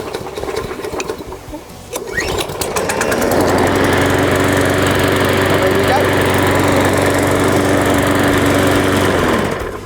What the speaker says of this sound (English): This is the Cobra M46B 18-inch petrol mower.